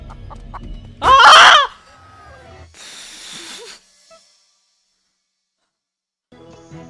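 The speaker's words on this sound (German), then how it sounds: "Oh, das sind kleine Hühnchen." Young chickens clucking and crowing in a loud burst near the start, followed by a softer hissy rustle and then near silence with faint clucks at the end.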